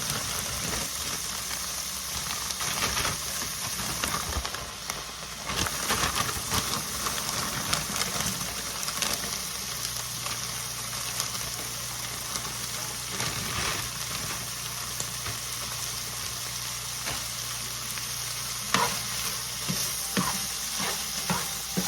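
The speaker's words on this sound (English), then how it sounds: "Now I'm gonna go in and add my fajita mix, the mixed vegetables." Fajita mixed vegetables sizzle steadily in a hot pan, a continuous close frying hiss broken by occasional stirring scrapes and clatters, with no talking.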